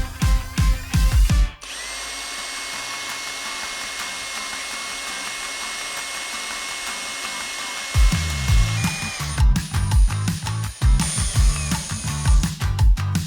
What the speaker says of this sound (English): These are suitable for drilling hard steel coatings.